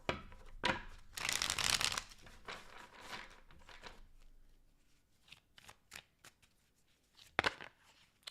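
Tarot cards being shuffled by hand during a reading, a run of dry papery riffles and bursts up close, with louder flurries early and a final sharp riffle near the end, no talking.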